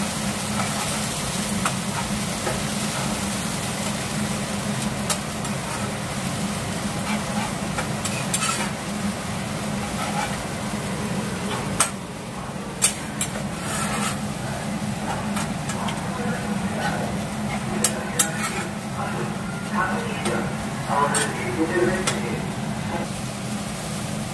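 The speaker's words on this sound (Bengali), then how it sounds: "টমেটো পিউরি দিলাম। এরপর আমি ভালো করে একটু ভাজবো।" A steady sizzle of tomato puree frying with ginger and garlic in a pan runs throughout, with occasional sharp scraping clicks from stirring and a low hum beneath.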